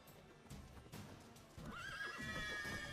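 A horse in The Witcher 3 lets out a whinny with bright wavering harmonics over the clatter of hooves and combat sounds, loud and close, with no talk.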